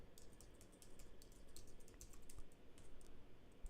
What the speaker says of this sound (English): type in note content again